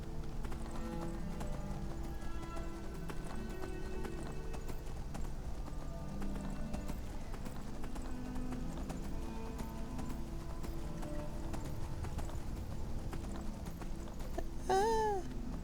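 Horse hooves clip-clop in a steady rhythm throughout a ride in the video game Skyrim, over an ambient background, and the horse gives a short neigh near the end.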